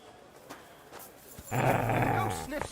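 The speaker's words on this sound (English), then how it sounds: "Call off that dog" A dog growls low and sustained at close range, rumbling steadily for about a second after some quieter shuffling and brief noises.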